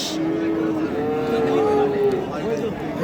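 A Deshal or Sahiwal dairy cow with her calf moos at the Ambari cattle market: one long, drawn-out, close call that rises and holds, with market chatter and voices underneath.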